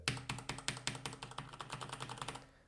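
Rapid, evenly paced keystrokes on a Rampage KB-RMW23 Scout wireless gaming keyboard, close and fairly quiet, with crisp clicky taps in a steady run and no voices.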